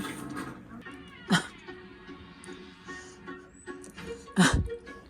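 Dog making strange, cat-like whining and yowling vocalizations, two loud rising cries plus quieter moans, fairly close in an otherwise quiet room.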